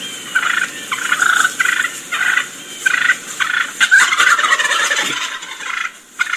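Agitated wild turkey hen calls, imitated by a turkey caller, come in a quick repeated series of sharp, squealing yelps, loud and close with no other voices.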